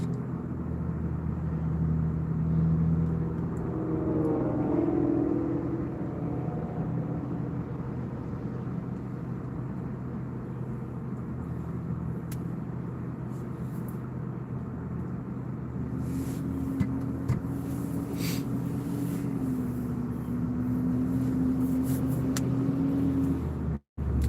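Car driving along a road, with a steady engine drone and road rumble throughout that is close and continuous, a rising and falling engine tone in the middle and later, and a few brief clicks near the end.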